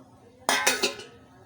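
A lid settles onto a bowl of soaking toor dal with three quick, close metallic clinks in a row, ringing out briefly before quiet returns.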